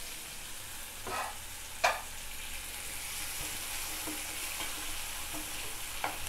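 Sliced onions, curry leaves and green chillies sizzle softly in hot oil in a pan, with a few scraping stirs and light clinks of a spatula, no one speaking.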